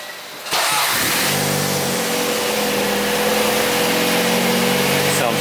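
A car engine fitted with a re-installed Revel exhaust fires up and runs steadily, a loud, close, continuous rumble with a throaty exhaust note that holds at a constant idle.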